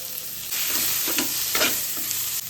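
Tomatoes and capsicum hit a pan of roasted spices for a Maharashtrian mixed vegetable bhaji, giving a steady close sizzle with a few scraping stirs and no voices.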